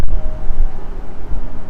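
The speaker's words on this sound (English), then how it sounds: "it is insane here with the wind" Strong wind gusting through downtown Miami, a steady loud rumbling buffet across the microphone that swells and dips without pause.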